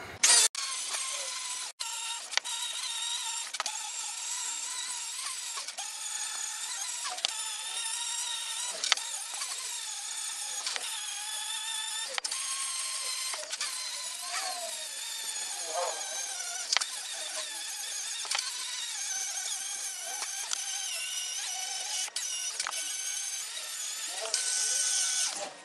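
A buffing wheel loaded with emery compound works an aluminum motorcycle part, giving a steady, loud high-pitched whir with a grinding hiss. It runs continuously for the whole stretch, with brief dips and scrapes as the part meets the wheel.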